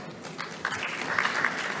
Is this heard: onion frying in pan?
no